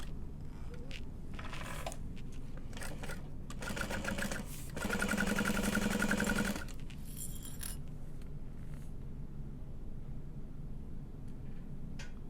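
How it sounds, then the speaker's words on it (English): A sewing machine stitches a 3/8-inch seam on a handbag, whirring loudly in one steady run of about two seconds midway, between quieter handling clicks and fabric rustles. "we'll sew down this side starting at the point, 3/8 of an inch"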